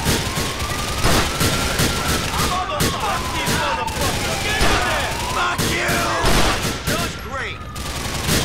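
Non-automatic gunfire in the video game GTA IV: The Lost and Damned, loud rapid shots and pops amid a dense firefight with sirens, with a player's voice talking over it.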